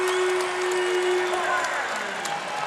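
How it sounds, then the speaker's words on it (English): Basketball arena crowd during an NC State vs. Wake Forest ACC men's game, a steady loud roar of murmuring and cheering reacting to a three-point attempt, with faint squeaks and shouts in the mix. "why the crowd may be reacting to that is this guy is just a lights-out shooter"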